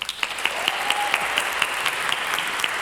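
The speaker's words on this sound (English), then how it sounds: "please a huge round of applause for Stephen Warner." Crowd applause at a panel event in a hall, a steady wash of clapping with distinct sharp claps standing out, moderately loud with no talk.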